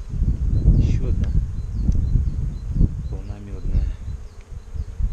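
Honey bees buzz steadily around apiary hives, a close, continuous drone with individual bees passing by, while someone talks over it.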